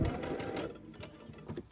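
A sewing machine runs in a rapid, even stitching whir while piecing a Tula Pink butterfly quilt, close but quiet, slowing and fading toward the end.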